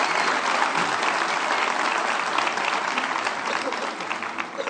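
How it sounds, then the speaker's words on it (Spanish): A church congregation claps together in a steady, full round of applause that tapers slightly near the close, loud and crowd-wide with no speech. "denle un fuerte aplauso a Dios."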